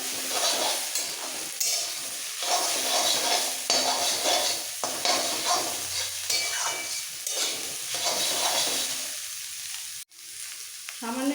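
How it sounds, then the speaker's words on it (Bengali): Maggi noodles with chopped onion sizzle and fry steadily in a pan, a continuous close hiss with occasional stirring scrapes throughout, briefly dropping out near the end. "এবার একসাথে নুডলসটা ভাজতে হবে"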